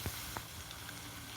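Homemade tortilla chips fry in hot oil, a soft, continuous sizzle with a couple of small pops near the start, heard alone at low level.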